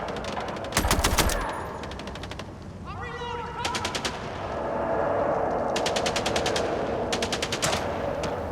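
Rapid bursts of automatic gunfire in the MindsEye video game crackle in repeated volleys, some sharp and close, others sustained in quick rhythmic strings amid background noise.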